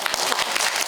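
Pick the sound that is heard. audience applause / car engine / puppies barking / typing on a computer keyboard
audience applause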